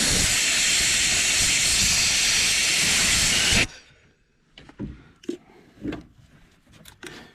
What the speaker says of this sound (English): Using compressed air kind of cleans it out a little bit.